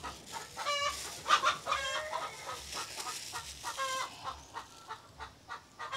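Chickens clucking and murmuring nearby, a steady chorus of soft clucks with a few sharper calls, no voices.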